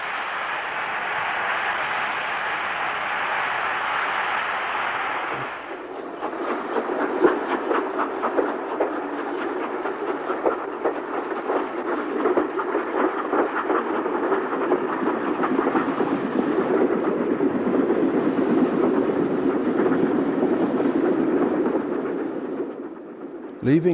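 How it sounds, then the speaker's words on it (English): A British steam train hauled by an LMS 8F locomotive, eased forward after taking water on the Somerset & Dorset line, with a steady rolling rumble and faint clickety-clack of wagons building over a background hiss, fairly close and continuous. "After the 8F has taken water, the train is eased forward to allow 80043 to have a drink"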